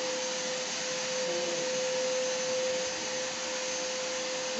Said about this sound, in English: Buti na lang may vacuum.